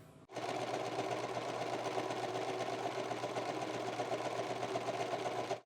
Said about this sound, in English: I'm going to run a seam right along the edge there from top to bottom